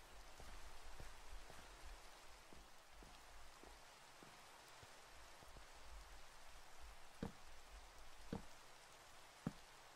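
Rain in Minecraft falls as a faint, steady hiss, with a few sharper drip-like ticks scattered through the ten seconds and no voices over it.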